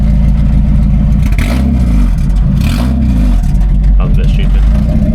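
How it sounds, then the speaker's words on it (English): A Mazda MX-5 Miata engine running with no exhaust fitted clatters and rumbles loudly up close, with a couple of rough revs rising and falling and a voice talking over it. "start the car with no exhaust on"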